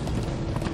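Horse hooves galloping in Minecraft Story Mode, a quick steady clip-clop under a continuous low rumble, short and fairly loud.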